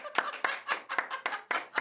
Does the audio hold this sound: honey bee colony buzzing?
no